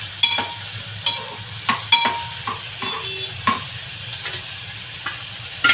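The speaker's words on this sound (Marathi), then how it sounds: "आता इथे कांदा बाजूला करते आणि आधी पनीर परतून घ्यायचं." Paneer sautéed in a pan beside onion for a mixed paneer, carrot and bean vegetable masala, a soft steady sizzle broken by sharp scrapes and clinks of a spatula stirring against the pan at irregular intervals.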